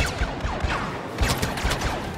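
Rapid bursts of video game gunfire crackle and pop repeatedly, dense and fairly loud, with overlapping shots and no talking, from Star Wars: Battlefront multiplayer.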